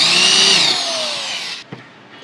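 A power drill drives a screw into the frame of a PVC well door, a loud close high whine for about a second and a half that winds down and stops, followed by a short knock.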